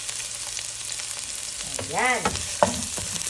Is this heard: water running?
no